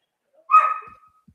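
A dog gives a single sharp bark followed by a short trailing whine, heard alone in a quiet indoor setting.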